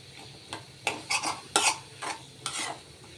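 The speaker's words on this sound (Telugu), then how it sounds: "ఈ అల్లం, పచ్చిమిర్చి, కారం, ఈ పోపు అంతా కూరకు పట్టేట్లాగా ఒకసారి బాగా కలిపేసుకుని" Brinjal and broad bean curry with ginger, green chilli and chilli powder being stirred in a pan, a handful of scraping, clattering strokes with a faint sizzle underneath, close and alone.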